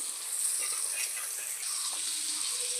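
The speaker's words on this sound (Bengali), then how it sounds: "ফোড়নটা একটু ভাজা করে নেব।" Green chillies and black cumin seeds fry in hot oil with a steady, close sizzle and crackle that continues evenly throughout, with no talking.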